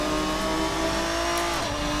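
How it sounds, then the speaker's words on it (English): Sim racing engine of a Race Sim Studio Ferruccio 57 in Assetto Corsa held at a steady high drone, with faint tire scrub creeping in as the rear starts to break traction near the limit. "You can hear the tires starting to break traction."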